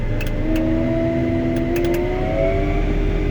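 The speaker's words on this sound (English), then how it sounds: "See, it just revved up the RPM." A New Holland 220 Speedrower's engine revs up toward about 1800 RPM, a steady close motor drone with rising whining tones and a few faint clicks, no talking.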